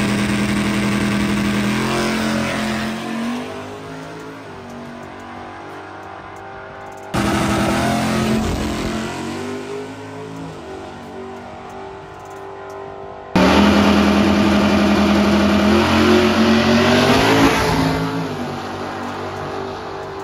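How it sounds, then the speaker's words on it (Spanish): Chevrolet Camaros, an old Camaro with a forged stroker engine against newer ZL1 and 6.2 models, at a drag racing event in Mazatlán, Sinaloa: loud engines rev and accelerate hard in three successive bursts, with the roar rising and falling between runs. "Camarito viejo contra los modernos, ZL1 contra el Camaro 6-2, le metieron al motor aquel Stroker y forjado"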